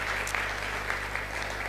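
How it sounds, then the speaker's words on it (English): An audience applauds at a public event with the Chief Minister in Dubai, a dense, even wash of clapping under a steady low hum. "So I think she deserves a big round of applause for that."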